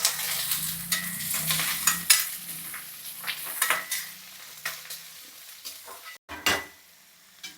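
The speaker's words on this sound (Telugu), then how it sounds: "ఇంకా చికెన్ అయితే వేపేస్తున్నాను కదా" Chicken pieces frying in hot oil for a crispy chicken dish, a steady close sizzle broken by repeated stirring scrapes and clinks of a utensil against the pan, with no talking.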